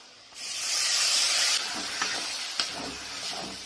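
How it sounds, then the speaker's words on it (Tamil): Sliced onions frying in hot oil until golden for a spicy prawn thokku, giving a steady broadband sizzle and hiss with a few soft stirring knocks near the end; no voices. "ஸோ நல்லா வதக்கணுங்க நல்லா கோல்டன் கலராக வரணும்"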